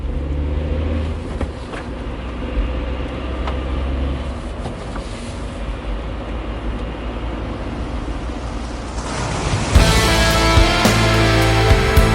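A car engine runs steadily while being driven, a continuous low rumble that shifts in tone near the end.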